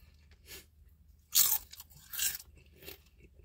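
Crisp, loud crunching bites into fried pickle fries from Sonic Drive-In, three or four close crunches with chewing in between and no talking.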